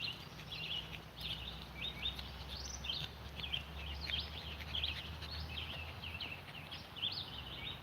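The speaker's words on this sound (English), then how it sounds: "listen to these birds singing" Several birds sing and chirp outdoors in repeated bright phrases, moderately distant against a soft steady background hum.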